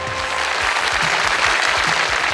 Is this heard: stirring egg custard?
no